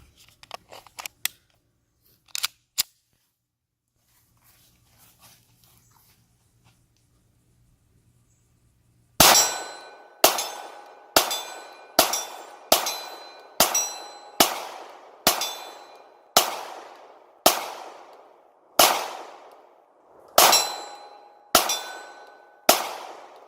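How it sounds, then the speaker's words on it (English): Sig Sauer P320 RX Compact pistol fired at steel targets, about fourteen sharp loud shots in quick succession, each ringing off briefly, after some quiet handling clicks. "We're going to shoot at some steel here and let you see it in action."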